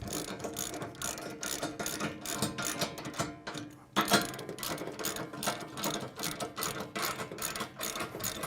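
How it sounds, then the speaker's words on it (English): Ratcheting clicks from a wrench tightening the two pilot assembly bolts on a B&W trailer hitch for a RAM truck to 80 foot-pounds, a steady, close, busy mechanical clatter that runs throughout with a brief pause near the middle. "now we're going to tighten the 2 bolts at each pilot assembly to 80 foot-pounds"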